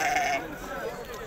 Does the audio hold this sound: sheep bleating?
yes